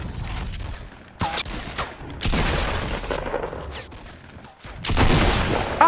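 Video game gunfire from a 50 versus 50 match bursts out in loud, dense volleys, with rapid rattling shots starting and stopping in several clusters and a heavy blast near the end.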